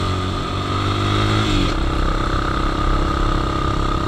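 A Zhongshen 200cc motard motorcycle engine labours loudly in first gear on a climb toward Benguet via Kennon Road, a steady close droning roar whose pitch shifts and settles partway through, with no voices.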